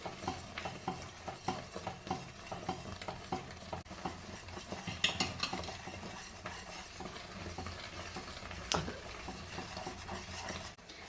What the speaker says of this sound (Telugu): ఇప్పుడు వేడైన నూనెను కొంచెం కొంచెం ఈ పాకంలో పోసుకుంటూ మనం ఈ పాకాన్ని కలపాలండి